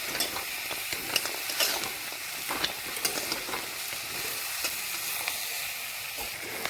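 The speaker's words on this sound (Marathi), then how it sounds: "सुंठ सुद्धा आपण भाजूनच घेणार आहोत" Dry ginger roasting in a pan with a continuous dry sizzle and hiss, punctuated by repeated scraping and rattling strokes of a spoon stirring the pieces, steady and close.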